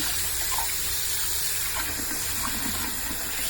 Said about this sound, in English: use the water pressure to wash it in different places.